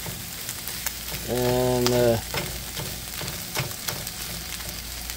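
Vegetables cook in a pan with a steady, close frying sizzle throughout, and a brief voice cuts in partway.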